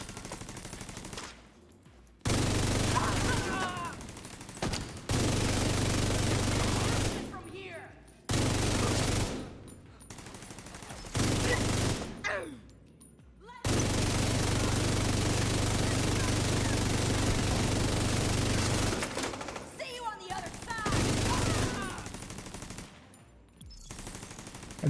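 FAMAS rifle in a video game fired in long sustained automatic bursts separated by short pauses, loud and dense, with the bursts sometimes running for several seconds straight.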